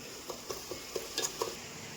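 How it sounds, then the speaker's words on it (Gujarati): Faint sizzling as bottle gourd dhokla pieces fry in a spice tempering in a pan, with a handful of soft, evenly spaced stirring taps and scrapes, no voices. "ઢોકરા નાખી છે વઘારની અંદર"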